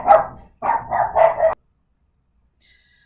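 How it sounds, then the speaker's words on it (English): Several dogs bark in the background of an algebra lesson: a quick run of four or five loud, close barks in about a second and a half, then silence. "sorry about the dogs in the background"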